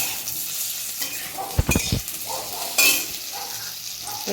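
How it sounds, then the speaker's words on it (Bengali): Potatoes frying in hot oil in a kadai, a continuous sizzle broken by a couple of sharp clatters of a spatula against the metal pan. "এবার আলুগুলোকে আমি একটু লাল লাল করে ভেজে নেব।"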